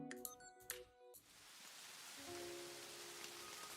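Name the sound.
rain falling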